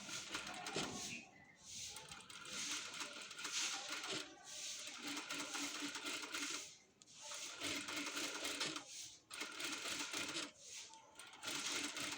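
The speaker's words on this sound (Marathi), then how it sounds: "आता आपण शिस्तीत असे टीप मारून घेऊयात।" A sewing machine topstitches around a handi-style blouse neckline, running in steady bursts of rapid stitching separated by brief pauses, close and fairly loud.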